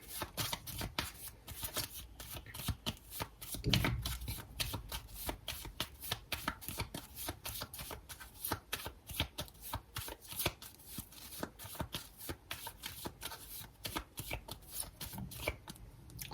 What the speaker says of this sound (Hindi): सो सबसे पहले यहाँ से कार्ड निकाल लेते हैं।